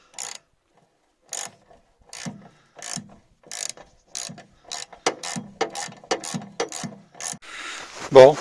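A wrench or ratchet works out the bolts holding the air filter on a Case 580F backhoe, giving repeated short bursts of close mechanical clicking and rasping with gaps between, growing busier toward the end.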